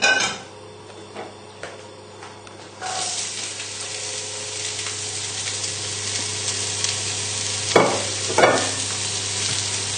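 Vegetables hit a pan with about a tablespoon of oil for a puff pastry chicken pie filling, bursting into a steady, close sizzle that holds to the end, with a couple of louder utensil clinks near the close.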